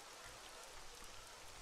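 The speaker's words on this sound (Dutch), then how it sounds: "Omdat het nu eigenlijk regent" Rain in the video game Rollercoaster Tycoon 3, a very faint, steady hiss of falling drops with no other sounds and no voices.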